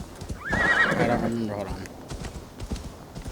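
A horse whinnies loudly and close by in the video game Assassin's Creed Valhalla, with clip-clop hoofbeats running underneath and someone talking over the sound.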